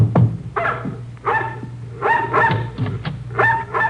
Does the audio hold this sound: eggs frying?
no